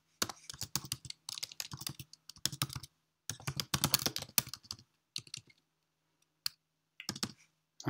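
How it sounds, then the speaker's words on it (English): Typing on a computer keyboard: rapid bursts of close, crisp key clicks in uneven runs, broken by short pauses and a few single taps. "I'm typing in the domain"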